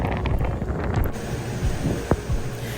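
Wind buffets the microphone aboard the Precision 65 motor yacht Merlin, at sea off the reefs near Cooktown, steady gusty rushing with a low rumble of sea and engine beneath.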